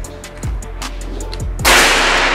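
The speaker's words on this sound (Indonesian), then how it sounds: "Kita lanjut tembakan yang keempat ya." A PCP air rifle is fired without a suppressor during a velocity test. A few light clicks lead into a sharp, loud burst of air near the end, followed by a lingering hiss.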